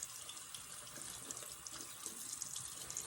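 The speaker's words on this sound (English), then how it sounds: "Give it a little bit of a rinse." A makeup brush being rinsed under a running bathroom tap, with steady splashing water close by and no voices throughout.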